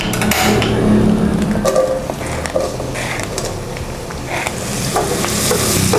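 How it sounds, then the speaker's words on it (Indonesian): Shallots sizzle and fry in about 30 ml of hot oil in a wok, a steady loud crackle with occasional scrapes and stirring clatter throughout. "Kita tumis sampai harum bawangnya, sampai golden brown."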